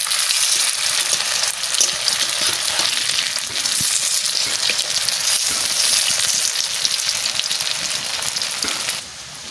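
Potato and bottle gourd peel fritters deep-frying in oil, a loud continuous bubbling sizzle with dense crackling that holds steady and eases off right at the end.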